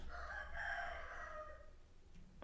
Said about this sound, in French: Le coq là, il chante bien.